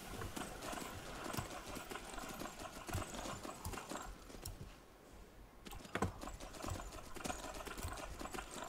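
Rhythmic horse hooves clip-clop steadily amid busy game sounds in Skyrim, with keyboard clicking mixed in.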